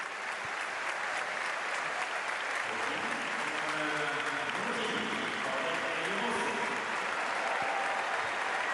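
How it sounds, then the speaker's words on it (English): A stadium crowd at a Norway vs Sweden international football friendly applauds warmly and steadily as a substituted player leaves the pitch, a dense sustained roar of clapping that fills the whole stretch. "Who goes off to a warm round of applause."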